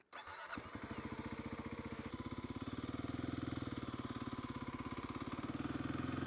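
A Kawasaki KLX 300 dirt bike's single-cylinder engine catches and settles into a rapid, even putter, steady throughout and rising slightly toward the end, fairly faint with no talking.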